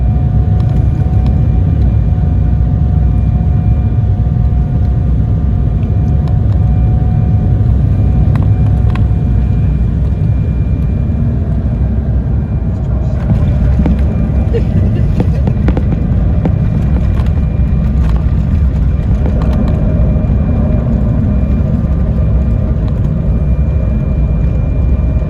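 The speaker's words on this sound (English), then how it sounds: "Now we're gonna see the landing in Southampton with the original sound." Inside the cabin of a German Airways Embraer E190 landing at Southampton, a constant low roar of engines and airflow fills the space, with scattered rattles and thuds from the cabin and touchdown midway.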